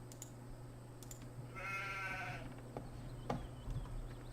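Sheep bleat once in Farming Simulator 17, a single short call in the middle of steady background hum and faint clicks.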